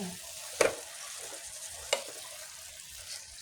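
Greens with chopped chili frying in a pan give a soft, steady sizzle, broken by two sharp clatters of a utensil against the pan.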